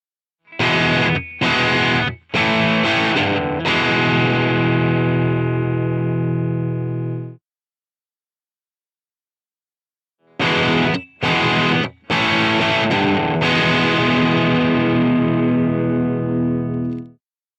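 Distorted electric guitar with single coil pickups played through the Amplitube amp simulator: two phrases, each a few choppy staccato chords followed by a long sustained ringing chord, separated by silence.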